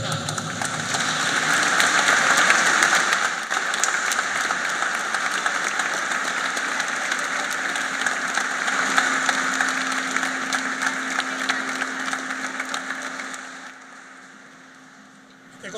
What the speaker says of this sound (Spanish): El reconocimiento y aplauso al artista Álvaro Podestá